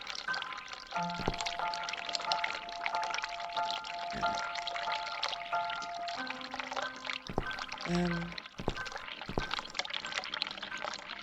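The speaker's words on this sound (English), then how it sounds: "I can hear the water running." Running water in the video game The Cat Lady, a steady gushing pour with wet splashy texture, broken by a few tonal clicks and a low thud, moderately loud and continuous.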